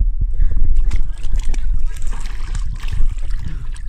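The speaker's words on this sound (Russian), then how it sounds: "Надо сначала еще раз в воду залезть." Water splashes and sloshes as someone climbs into an outdoor thermal pool at a park-hotel on a snowy November day, with voices talking over the choppy splashing.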